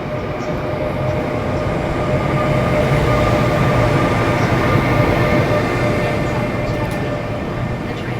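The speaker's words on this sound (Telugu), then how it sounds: "చూడండి ప్యాసింజర్ ట్రైన్" A passenger train on the Seoul to Busan line pulls into a South Korean station, its steady rumble and rolling wheel noise holding loud and close throughout with no voices.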